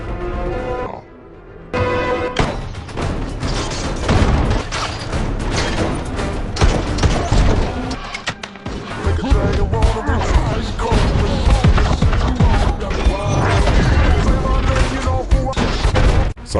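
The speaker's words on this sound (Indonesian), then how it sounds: "hingga kemudian aksi saling menembak pun terjadi" A shootout in an action film fills the scene with dense, loud gunfire, repeated shots and heavy booms running almost continuously after a brief quieter opening.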